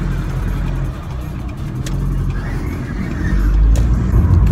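Car interior while driving, with a low steady engine rumble and road noise that builds slightly in loudness toward the end, and occasional faint clicks over the drone.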